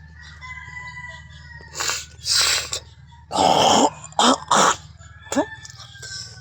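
Several loud, harsh coughs in close bursts on a cold early-morning fishing outing, with a throat clearing between them, over a steady low hum of background noise.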